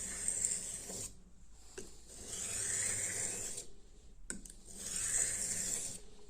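A steel kitchen knife is drawn repeatedly across a 6000 grit whetstone on a rubber-soled holder, giving long, steady scraping strokes with brief pauses between them, close and fairly quiet.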